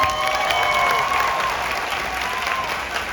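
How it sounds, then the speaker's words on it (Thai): An audience applauds after the final performance of the stage musical Fah Jarod Sai, a continuous, even roar of clapping with faint cheering and tonal sounds lingering above it. "ขอเสียงปรบมือให้ทุก ๆ ท่านด้วยครับ"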